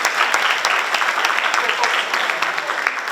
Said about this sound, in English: can you just give him a little round of applause?